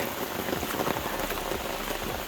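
Steady rain pattering on the surroundings along the Appalachian Trail in Virginia, a dense, even hiss of drops throughout with no talk.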